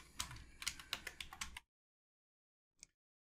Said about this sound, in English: in the search box, simply type Divi Enhancer